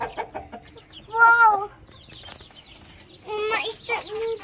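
Aseel chickens cluck in two short bursts of raised, nasal calls, separated by a quieter stretch with faint background voices.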